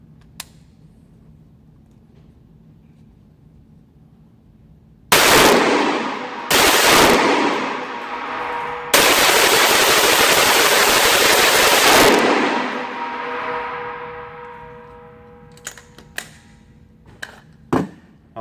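An AR-15 pistol with a 7.5-inch barrel is fired in rapid strings, a few seconds at a time. The shots are loud and close and blur into continuous bursts. Faint clicks and handling noise follow.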